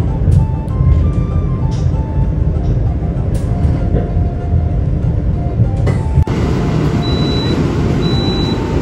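The KA Majapahit New Generation train rolls into track 7 at Jatinegara station with a loud, continuous rumble of wheels and carriages, then a short tonal chime sounds near the end.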